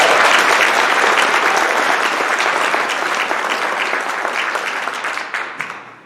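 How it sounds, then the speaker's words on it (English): Audience applause at a Peace Corps Legacy Association national service park launch, loud sustained clapping from a crowd that gradually thins and fades toward the end. "We all applaud you"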